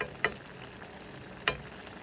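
Sajina flowers fry in a pan with a quiet, steady sizzle, and two sharp clinks of a utensil are heard about a second apart.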